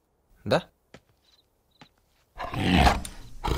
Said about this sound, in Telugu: పులి.